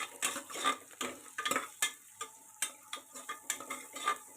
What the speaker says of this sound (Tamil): வெங்காயம் வதங்கும் போதே கொஞ்சம் பூண்டு தட்டி வச்சுருக்கேன் அந்த பூண்டு சேர்த்துக்கிறேன்